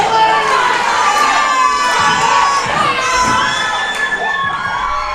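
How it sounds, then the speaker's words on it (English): Wrestling crowd at a live Friday night show roaring and chanting "highlight reel", a dense, loud, sustained wall of shouting voices with rising chant tones and no gaps. "Listen to that crowd."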